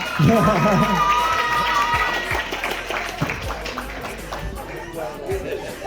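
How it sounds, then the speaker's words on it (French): Crowd at a short-film premiere screening applauding the mayor, a dense wash of clapping that fades somewhat across the stretch, with some voices and chatter mixed in. "vous pouvez applaudir Monsieur le maire aussi"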